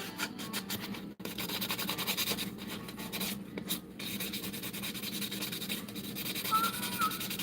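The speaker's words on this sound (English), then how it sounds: "I'm not concerned about taking the clear coat all the way off. I just am going to scuff" Clear coat is scuffed off a surface before priming, a steady close rasping rub with repeated back-and-forth strokes and a few brief pauses.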